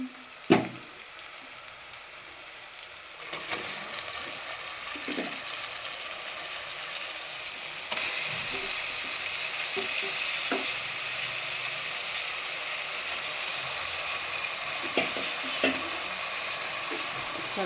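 Mutton pieces dropped into a pan of frying masala for mutton curry, giving a steady sizzle with scattered clicks and scrapes as the meat is added and settled, close and moderately loud throughout.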